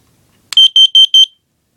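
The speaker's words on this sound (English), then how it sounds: "And of course, the Mutter carbon monoxide alarm." A carbon monoxide alarm gives a sharp click followed by four quick, loud, high-pitched beeps in steady succession. The beeps are close and clear with no talking over them.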